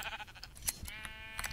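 A sheep in Minecraft gives a short, quavering, game-style bleat, clear and fairly close against a quiet background, with no talk over it.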